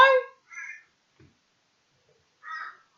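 A crow calling outdoors, three harsh caws, the first loud and the next two fainter, separated by silence.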